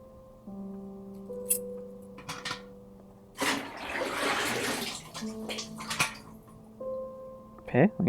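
Water pours into a bucket at a full bathtub in the game Homesick, a brief rushing splash of a few seconds set among quiet ambient tones and small clicks, with a voice speaking around it.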